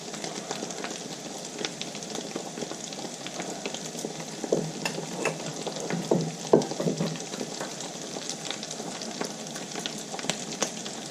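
Mattar kachori, small pea-stuffed pastries, frying steadily in hot oil in a pan: a constant dense sizzle with scattered crackles and pops, a little louder near the middle, no talking.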